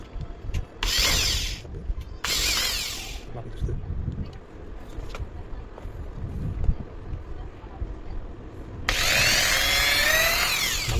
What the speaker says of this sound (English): So first drill with 4mm.